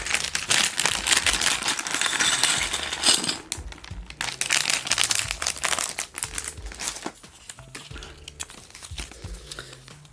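Plastic packaging of a small Lego Animal Crossing set, Maple's Pumpkin Garden 30662, being torn open, with loud crinkling and rustling, then loose bricks rattling and clattering in irregular bursts, fading toward the end.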